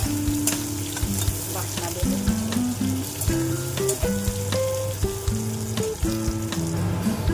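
Onions fry in a pan with a steady sizzle while background music plays throughout, the frying sound sitting under the melody.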